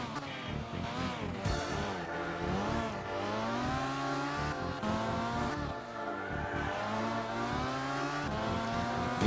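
Rear-engined, rear-heavy car racing in Gran Turismo 6, engine revving up and down through gear changes with tire squeal, loud and continuous, no talk.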